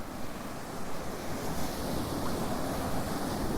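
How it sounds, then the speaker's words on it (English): A noisy sea, though not rough, sends waves washing in as a continuous broadband roar, loud and close. It sounds like breaking surf with some wind buffeting the microphone. "Very noisy sea, not even that rough."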